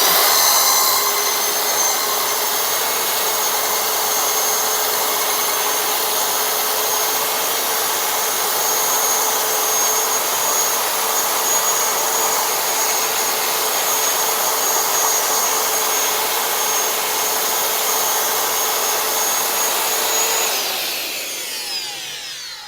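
A power mixer whizzes Fuga-Pave Flex CH grout into a creamy putty, a loud, steady motorized whine with constant pitch for about twenty seconds before winding down at the end.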